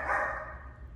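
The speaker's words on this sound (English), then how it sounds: "My dog is barking." A single dog bark sounds indoors, brief and mid-pitched at moderate volume with nobody talking.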